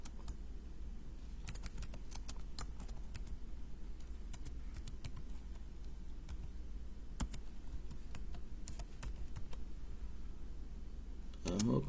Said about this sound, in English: because I'm typing, right?